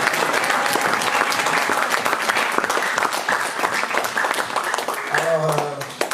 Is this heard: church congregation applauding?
yes